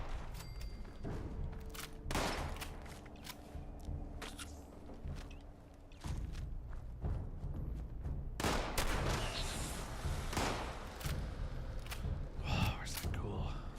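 Sniper rifle headshots in Fallout 76, several sharp cracking reports spaced across the clip over a steady background rumble, with a voice talking throughout.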